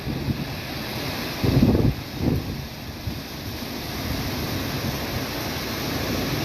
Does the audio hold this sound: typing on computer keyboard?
no